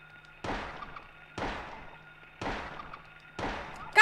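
Gunfire at a bug in the horror video game Silent Hill 1, four sharp evenly spaced shots about a second apart, each with a quick decaying tail, loud and close with no talk.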